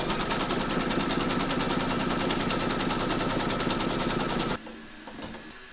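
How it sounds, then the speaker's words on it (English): An embroidery machine stitches a quilt block held in its hoop, a steady rapid mechanical chatter that runs loud and unbroken for about four and a half seconds, then stops abruptly, leaving a faint low hum. "Pop your hoop into your machine and stitch round number two to secure it"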